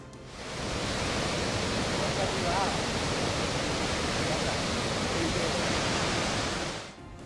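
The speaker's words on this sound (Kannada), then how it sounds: "ನೋಡಿ ಬಂಡೆಗಳನ್ನ ಸೀಳಿಕೊಂಡು ನೀರು ಹೇಗೆ ನುಗ್ತಿದೆ ಅಂತ ಚಿಕ್ಕಮಗಳೂರು ಜಿಲ್ಲೆ ತರೀಕೆರೆಯ ಕಲ್ಲತಗಿರಿ ಫಾಲ್ಸ್ ಇದು" Kallathagiri Falls near Tarikere in Chikkamagaluru district, Karnataka, in flood after heavy rain, pours over rocks as a loud, constant rushing roar that holds steady and drops off slightly at the end.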